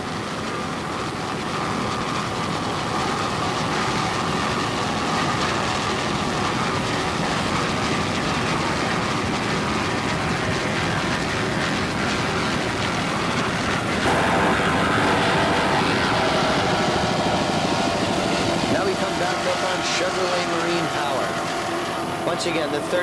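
Racing offshore powerboat engines from the 1988 national championships, including a 38-foot Cougar, roar loudly and steadily throughout, a broad sustained drone with a commentator talking over it.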